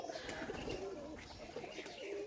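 Pigeons coo softly in low, rolling murmurs, several birds close together, with faint background ambience.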